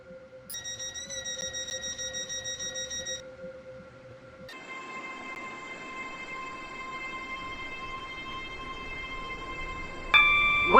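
A train runs in the video game Stepford County Railway: a tonal, synthetic hum drops out partway, then returns as a steady electric whine with layered pitches and a brief louder burst near the end, without speech.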